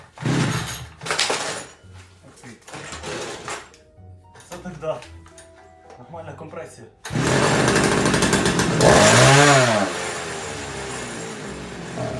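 Dnipro-M chainsaw engine cranked with several pull attempts, then catching and running loudly with a rough, revving drone, with people talking over the early attempts.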